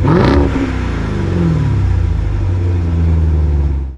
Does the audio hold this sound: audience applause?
no